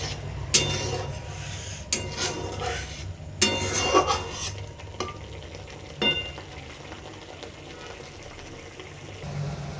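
Chickpea curry masala is sautéed in a pan, with intermittent stirring scrapes and clanks of a spoon against metal over a low background sizzle, near and moderately loud, no voices.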